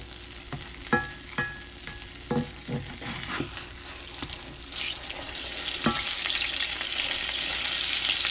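Cherry fried pies sizzle in a pan on a home stove, a steady hiss of hot oil punctuated by several sharp clinks and scrapes of a utensil, with the frying swelling louder toward the end.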